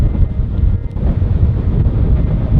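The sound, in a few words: strong wind blowing on a beach, wind noise on microphone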